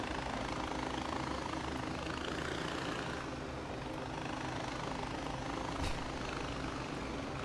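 Helicopter hovering above a convoy in the video game Far Cry 4, a steady, dense engine and rotor drone that stays even and fairly loud throughout, with no speech.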